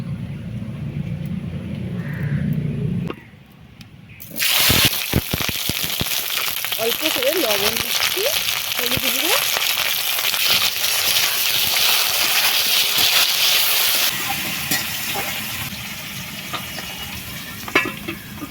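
Malabar spinach stalks go into hot mustard oil in a wok on a lit stove: after a quieter start, a loud, dense sizzle erupts and holds steady with stirring clatter, then eases slightly near the end.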